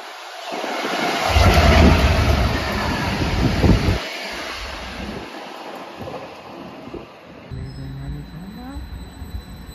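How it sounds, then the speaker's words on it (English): A heavy Class 66 diesel freight train rumbles past close by at Stowmarket station on the Great Eastern Main Line, loud at first and then fading into a lower, steadier roll with some squeals toward the end. "A freight train is about to come through."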